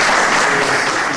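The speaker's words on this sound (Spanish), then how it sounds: "con un aplauso del público te recibimos" Dense, steady audience applause filling the hall at an ethnographic conference session, welcoming a guest speaker named Carlos; loud and continuous throughout with no voices over it.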